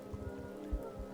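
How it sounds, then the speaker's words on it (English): Steady rain falls on a surface on a dark night, a constant close patter with a few heavier drops, no voices. "It's raining."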